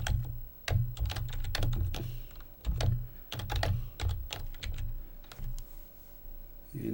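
Fast bursts of typing on a computer keyboard, close and crisp, with irregular clusters of key clicks separated by short pauses, entering a position function into an online graphing calculator, with no voices.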